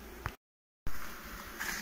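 Honeybees buzz faintly and steadily around an overwintered hive opened for a spring inspection in the Vysočina region, cut by a brief moment of silence before the hum returns.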